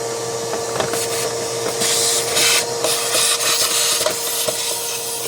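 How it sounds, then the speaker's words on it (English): A vacuum cleaner drones steadily up close, with scraping and knocking as the nozzle rubs and bumps against the hard surface of a Toyota engine air filter box. "So don't forget to vacuum before you put in a new filter."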